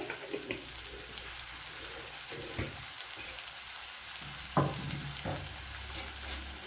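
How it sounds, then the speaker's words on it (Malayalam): Sliced onions sautéing in a pan until brown, sizzling evenly up close, with a few spatula scrapes and knocks and faint running water in the background, no talking. "ആദ്യമേ തന്നെ സവാളയൊക്കെ നല്ലതുപോലെ വയറ്റി ബ്രൗൺ നിറമാക്കി എടുക്കണം"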